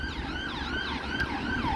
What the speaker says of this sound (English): as a siren goes past